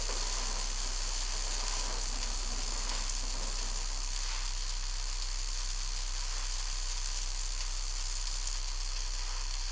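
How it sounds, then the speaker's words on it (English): Steady hissing patter of rain in a mobile racing video game fills the scene, an even crackling wash with a low constant hum underneath and no voices. "Oh, weather is raining."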